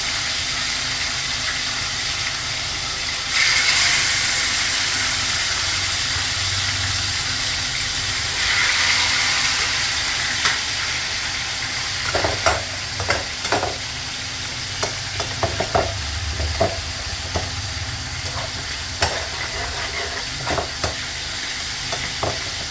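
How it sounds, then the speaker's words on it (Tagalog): Tomatoes sauté in a pan with a loud, continuous hiss and sizzle, swelling as they hit the hot oil, then joined by sharp scraping stir strokes and clinks, with no talking. "Pag narigisa po ganyan yung kamatis"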